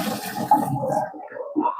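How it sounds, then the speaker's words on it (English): Boiled string beans drained in a kitchen sink, water pouring out in a steady splashing rush for under two seconds with a brief surge partway through, close and fairly loud. "We're going to go ahead and drain these string beans."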